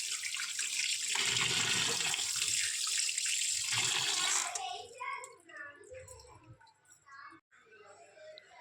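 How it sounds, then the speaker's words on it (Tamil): Tap water gushes steadily and loudly for several seconds while fish are washed, then cuts off, followed by quieter splashing and handling sounds with some voice-like bits. "நான் பைப்பில் தண்ணியில் காமிச்சு ஒவ்வொரு மீனாக கழுவி சுத்தம் பண்ணி எடுத்துக்க போகிறேன்"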